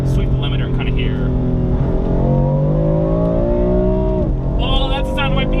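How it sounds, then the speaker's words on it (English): A Dinan S2-tuned BMW M4 F80 engine revs steadily upward to the rev limiter, a loud, close, continuous rising engine note that drops sharply at the end. "Let's just sweep the limiter and kind of hear."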